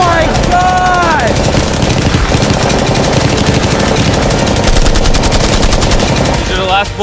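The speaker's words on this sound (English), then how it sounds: "One bullet to penetrate, and it's going in his Lambo." Rapid gunfire rings out in a dense, continuous burst, loud and close, as bullets are fired at a Lamborghini. A voice exclaims briefly at the start and end.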